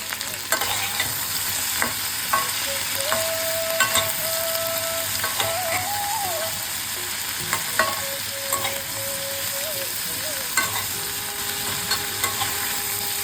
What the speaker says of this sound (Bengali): এদিকে সবজিগুলো আমার খুব ভালো করে ভাজা হয়ে গেছে